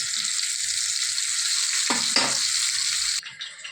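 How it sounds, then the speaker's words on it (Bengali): Potatoes frying in a pan beside already fried aubergine, a side for khichuri, give a steady, close, loud sizzle that keeps on for about three seconds, then drops sharply near the end. "এখন এগুলো আমি ভাজবো খিচুড়ির সঙ্গে খাবার জন্য। বেগুন ভাজা হয়ে গেছে, এখন আমি আলু দিয়েছি।"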